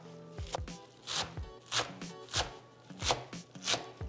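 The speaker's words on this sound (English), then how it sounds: "I'm just going to give them a rough chop." A knife rough-chops fresh curled and flat leaf parsley on a board: about a dozen crisp, close thuds come in quick uneven bursts, with no talk.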